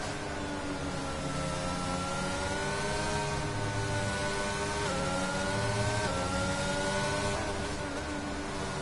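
Race car engines in a sim racing game at Spa, a continuous loud roar with rising and falling revs and overlapping engine notes as cars race close together.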